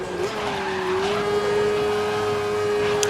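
An F1000 open-wheel race car lapping the Havana circuit in the racing game Grid, its engine holding a loud, steady high whine with a faint tire squeal, heard close and alone.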